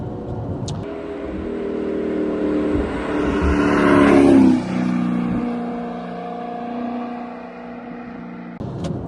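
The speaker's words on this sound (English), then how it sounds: "the exhaust opens and you get that really nice rasp of the V8" An Audi R8 V8 engine with a Capristo exhaust revs up into a loud, raspy exhaust roar that peaks midway, then eases back to a steady drone close by.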